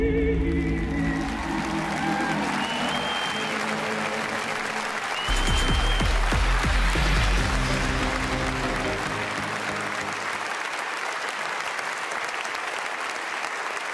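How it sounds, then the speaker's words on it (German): Applause from a large audience at the 2018 Goldene Kamera Digital Award show in Berlin, sustained dense clapping that swells midway then thins toward the end, with music playing underneath for most of it. "Ihr werdet gleich mehrmals die Chance haben, diesen tosenden Applaus während unserer Laudatio nochmal zu wiederholen."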